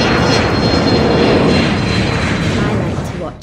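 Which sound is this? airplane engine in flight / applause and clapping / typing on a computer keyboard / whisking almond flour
airplane engine in flight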